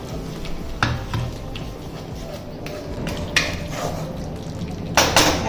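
A spatula scrapes and clinks against a pan as spice paste is stirred with water, giving sporadic metallic knocks over a low sizzling background with no talking.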